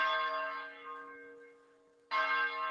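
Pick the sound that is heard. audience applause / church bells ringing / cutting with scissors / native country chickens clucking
church bells ringing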